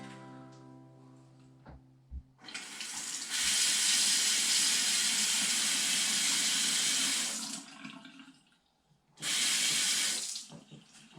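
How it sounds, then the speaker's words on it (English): Water runs from a Kohler faucet fitted with a new cartridge, a steady loud rush that stops and then starts again briefly, heard alone without talk. "Let's turn it on and see what happens."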